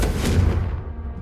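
A Confringo fire-blast spell from Hogwarts Legacy bursts in a single heavy boom that rolls and fades quickly, close and loud with no talk.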